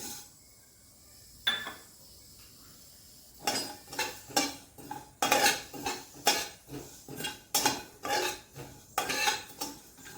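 Two spoons of fennel seeds are dry-roasted in a pan, with a quiet opening and then a run of rhythmic scraping stirs and rattling seeds against metal, close and without talk.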